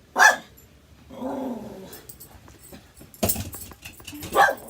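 A dog barking during cross-border travel, a few sharp loud barks spaced apart, with a low growl and a jangle of keys between them.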